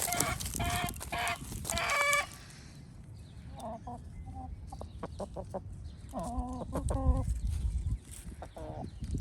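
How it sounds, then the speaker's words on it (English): Several chickens cluck and squawk nearby in short bursts, with quieter rustling and soft clucks between the louder calls. "I'm going to film this next one amongst my partner's lovely chickens."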